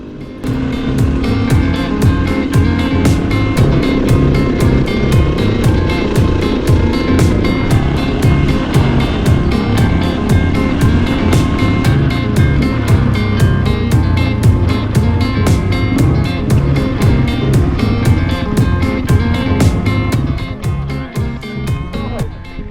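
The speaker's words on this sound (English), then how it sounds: "After fueling up all the bikes, we headed back out across the grassy lands of the Mongolian Step" Motorbikes ridden across the grassy Mongolian steppe, a loud continuous engine drone with a rapid pulsing beat that holds steady throughout and eases slightly at the end, with no voices.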